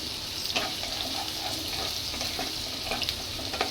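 Onion, ginger and chilies fry in a pan with a steady close sizzle, punctuated by soft scrapes of stirring at irregular intervals; no voices are heard.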